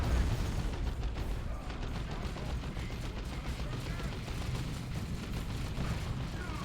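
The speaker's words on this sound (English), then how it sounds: "There's Rocket Barrage." A Rocket Barrage ability in Dawn of War 2: Retribution pounds the battlefield, a dense roll of explosions and rumbling impacts sustained at full loudness under the battle din.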